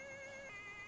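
An ambulance siren in a video game, a steady wailing tone with a quick pitch step midway, faint and distant, heard alone for under a second.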